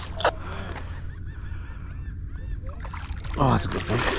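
Geese honking over the water on a foggy morning on Long Island Sound, several loud, raspy honks nearby with quieter calls between them and a low boat rumble underneath.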